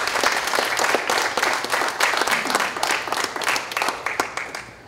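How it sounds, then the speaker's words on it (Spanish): Strong audience applause at a motivational talk, a full, loud wash of clapping that holds steady and tapers slightly at the end. "Un fuerte aplauso para usted."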